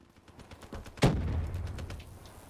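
Gunfire in the Black Ops 3 video game: a single sharp shot bursts out near the middle with a booming, decaying tail, preceded by faint quieter pops, moderately loud against a quiet background.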